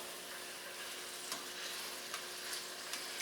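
Chicken pieces fry in olive oil in a pan with a steady, dense crackling sizzle and a few sharper pops, close and even throughout with no voices.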